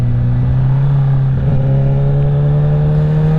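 A Honda CBR1000RR motorcycle with a loud exhaust revs in first gear, a steady close engine drone holding one pitch for a few seconds.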